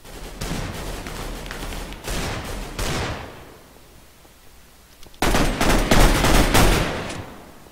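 Rapid bursts of automatic gunfire in the Minecraft Mineplex video game, two clusters of shots separated by a brief quiet gap, the second burst louder and denser.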